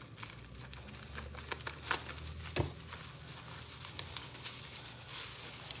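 A package wrapped in bubble wrap is handled and opened, giving soft, steady crinkling and rustling of plastic with a few sharper crackles, close and fairly quiet, without talking.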